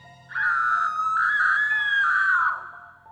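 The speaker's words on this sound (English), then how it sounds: "A woman's muffled screams came from the corn." A woman's muffled scream from a cornfield, one sustained high wailing cry lasting about two seconds before trailing off, alone against quiet background.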